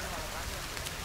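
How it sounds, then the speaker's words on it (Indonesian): Rain falling in the survival game The Forest, a steady broadband hiss of drops on surfaces, continuous and moderately loud for a brief moment. "Hujan."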